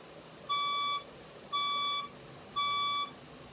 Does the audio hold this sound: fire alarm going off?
yes